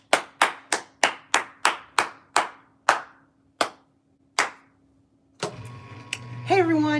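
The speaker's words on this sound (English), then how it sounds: "Clap your hands." Hands clap in a quick series of sharp, distinct claps that gradually spread apart and stop, followed by a burst of mixed noise and mechanical sounds near a coin pusher arcade machine.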